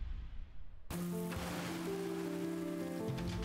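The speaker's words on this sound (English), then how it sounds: "It's raining now." Rain falling in the video game Windbound, a steady broadband hiss that starts abruptly and continues, with soft tonal game music layered underneath and no talking.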